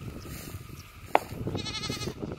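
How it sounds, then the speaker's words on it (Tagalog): Goats on a small farm, including a mother goat with two young kids, give a brief bleat around the middle amid low rustling and ambient noise, with a few faint, distant bleats elsewhere. "Yan yung nanay ng dalawang batang kambing."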